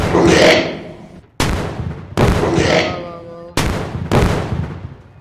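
Gunfire from a newly picked-up, bomb-launching gun in a mobile video game: four loud, sharp blasts, each followed by a ringing decay, fired at a steady pace of about one per second.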